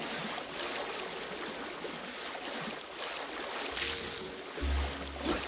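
Kao the kangaroo sloshes through shallow water in the 2022 Kao the Kangaroo game. Soft splashing and watery rushing carry on steadily, with a louder splash and thump near the end.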